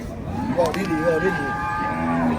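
Cattle lowing at a livestock market for cows and buffalo in Kuchinarai, Kalasin, Thailand, with sustained moos layered over a busy crowd murmur.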